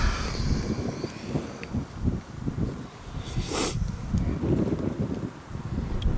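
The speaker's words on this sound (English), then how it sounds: "The wind's also blowing it. That was wind." Outdoor wind gusting through an old cemetery, buffeting the microphone in uneven rumbling surges with faint rustling, rising and falling throughout and briefly swelling to a hiss near the middle.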